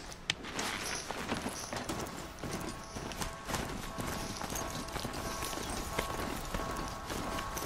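A robotic horse mount gallops in the video game Horizon Zero Dawn, its hooves pounding in a steady, fast, continuous rhythm close up for the whole stretch over dense game noise.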